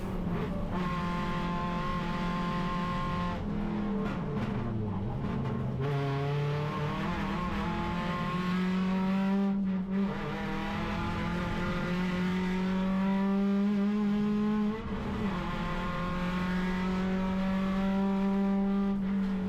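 A race car engine accelerating down the main straight of a track during a race lap, loud and close, with rising whining gear pulls, brief dips at upshifts, and a steady climbing tone that fills the whole stretch.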